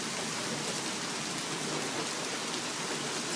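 Heavy rain during a morning thunderstorm with gusting wind, a steady, dense hiss of downpour close by, evenly loud and unbroken, no voices.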